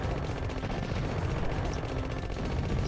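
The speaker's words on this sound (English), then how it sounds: "Spread gun, of course." Spread gun fire from the PlayStation game C: The Contra Adventure, a steady stream of rapid, loud shots forming a continuous rattling barrage with no talking.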